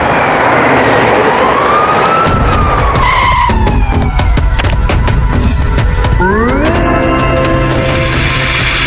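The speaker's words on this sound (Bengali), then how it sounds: "রঘুরামের বাড়িতে আগুন লেগেছে মনে হয়, দমকল ডাকতে হবে।" A fire engine siren wails with a rising and falling tone in a cartoon comedy, loud and close, mixed with rushing vehicle noise and screeching skids, with no talking.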